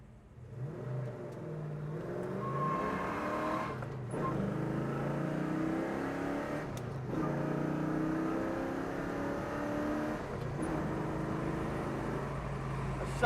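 A 1971 Chevrolet Chevelle SS pulls away on the road, its engine note climbing steadily through several long gear pulls with brief dips at the shifts, a continuous close-up drone with no talk.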